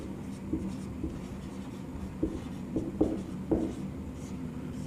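A pen writes on paper, making soft, quiet scratching strokes with a few slightly sharper taps as letters are formed, close by over faint room noise.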